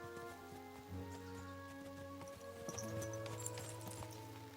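Horse hooves clip-clop at a steady walking rhythm in the medieval video game Kingdom Come Deliverance 2, moderately loud over a sustained musical score with faint rain-like patter.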